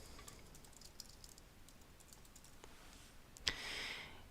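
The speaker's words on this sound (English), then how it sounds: "in this case, I simply type in the box" Someone types comments on a computer keyboard in quiet, close bursts of soft key clicks, ending with one sharper keystroke followed by a brief hiss.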